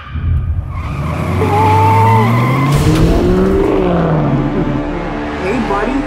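A car skids with loud tire squeal before hitting someone, the engine roaring close by as the screech swoops up and down for several seconds before fading.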